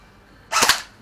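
A toy gun fires at a shooting range: one sharp, loud pop, closely followed by a second crack, standing alone against a quiet background.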